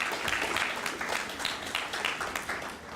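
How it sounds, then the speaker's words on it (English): An audience applauds home team members at a juvenile drug court graduation, a steady crowd of clapping hands held at moderate level for a few seconds. "Let's give a round of applause for all these home team members."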